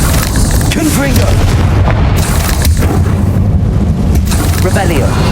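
A Confringo blasting spell from the Hogwarts Legacy game bursts in a heavy, loud boom with rumbling explosive noise throughout, mixed with game sounds and spoken voices over the top.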